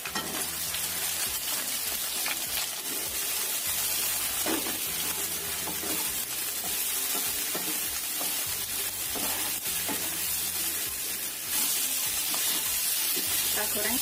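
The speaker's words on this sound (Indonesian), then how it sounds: "Kita goreng sampai layu aja ya terongnya, nggak terlalu matang." Eggplant pieces fry in hot oil with a steady, dense sizzle and crackle that holds for the whole stretch, broken by occasional stirring scrapes. Close and fairly loud, with a low repeating hum underneath and no talking.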